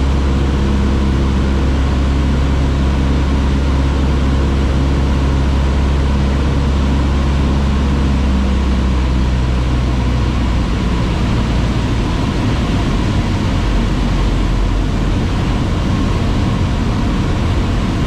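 A light aircraft on final approach to runway 07 at Mnichovo Hradiště, Czech Republic, heard as a loud, steady droning engine with no break for the whole stretch, its low tone slowly shifting.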